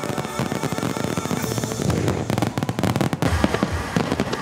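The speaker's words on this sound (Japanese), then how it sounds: "舞台上が照明で赤く染まると赤色の花火が打ち上がります" Rapid volleys of red fireworks pop and crackle in quick succession during a staged fireworks show, a dense burst of sharp launches and bangs from moderately close by.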